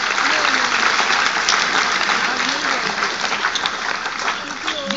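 An audience at a school event claps for the teachers, a dense sustained round of applause at steady strength that fades only slightly over the few seconds.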